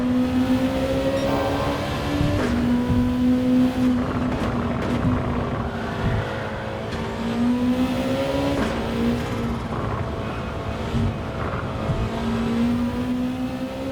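An engine-swapped Amuse S2000 driving in Gran Turismo 7, its engine droning steadily with revs rising and falling through gear changes, loud and continuous throughout.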